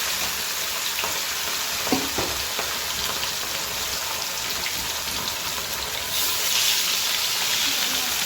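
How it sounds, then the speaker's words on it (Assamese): Fish fries in a pan of hot, spattering oil, giving a loud, steady sizzle with crackling pops that runs unbroken throughout and swells a little toward the end. "মাছটো ফ্ৰাই কৰি লওঁ। বাপৰে বাপ, ইমান তেল চিটকে।"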